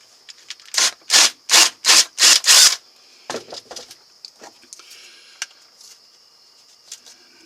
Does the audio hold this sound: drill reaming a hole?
yes